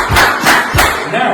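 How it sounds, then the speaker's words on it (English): Three or four loud, close hand claps from the birdie dance land in a steady rhythm, each a sharp broadband smack, with voices underneath. "as you rise, you have to clap, clap, clap, clap"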